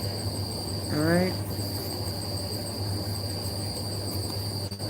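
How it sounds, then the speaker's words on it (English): Crickets chirp steadily in the background with high, sustained trills that run the whole time, while a voice briefly rises over them near the start. "my crickets are singing up a storm"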